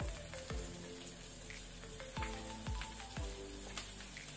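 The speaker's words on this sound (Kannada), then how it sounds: "ಇದನ್ನೀಗ ಸ್ವಲ್ಪ ಫ್ರೈ ಮಾಡ್ಕೊಳ್ಳಿ ಮೀಡಿಯಂ ಫ್ಲೇಮಲ್ಲಿ" Chopped onion with salt fries in about a tablespoon of hot cooking oil over a medium flame, giving a soft, continuous sizzle close by with occasional faint clinks.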